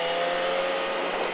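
A motorcycle screams at high revs as it accelerates through a corner on the Le Vigeant race track, a steady, loud engine whine held close for the whole moment with no talk over it.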